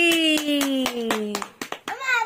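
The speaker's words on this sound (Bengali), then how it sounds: "হাততালি" Hands clap a few times at a child's third birthday party at home, sharp and close, while adults and someone talk and sing over them.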